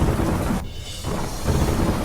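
Heavy monsoon rain pours over Ahmedabad with thunder, a loud dense roar that dips briefly in the middle and then returns at full strength.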